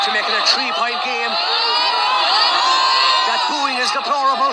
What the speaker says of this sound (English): That booing is deplorable.